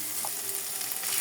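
Close, continuous sizzle of potatoes, eggs, green beans and pepper frying in a pan, a bright crackling hiss with no voices.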